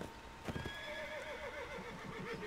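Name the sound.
horse neighing and hooves in video game Blood & Gold: Caribbean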